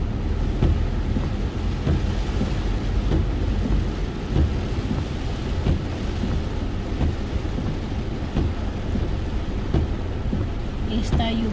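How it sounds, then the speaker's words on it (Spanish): Heavy rain while driving a car makes a dense, constant roar of rain drumming on the vehicle, with a low rumble beneath it and occasional sharper thumps, loud and steady throughout. "Está lloviendo, pero"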